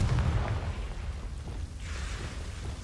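A Confringo blast spell goes off in the video game Hogwarts Legacy as a muffled, rumbling explosion burst that swells and fades over a couple of seconds.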